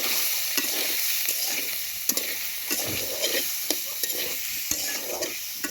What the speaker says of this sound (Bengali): এই সয়াবিনগুলোকে আমি ভাজতেছি